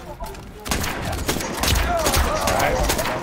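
Erron Black's gunfire in a Mortal Kombat 11 match, rapid gunshot bursts layered with fight effects, fairly loud, with a voice talking over them.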